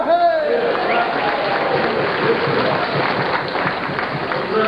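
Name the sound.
crowd applause at charity auction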